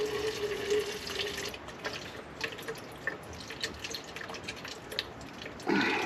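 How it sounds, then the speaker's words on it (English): Water drips from a hose on a 1936 International truck outdoors, making faint, irregular drips and trickles over steady background noise. "She commenced the dripping."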